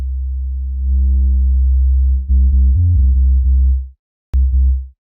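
Synth sub bass notes, accentuated with a square wave for added overtones, play as a loud sustained low tone that shifts pitch, pauses briefly near the end, then returns before cutting off.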